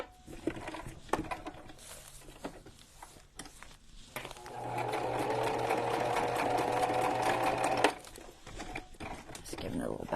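A sewing machine stitches through a journal cover, running in a steady, continuous burst of several seconds after brief starts and stops, with faint handling noise around it.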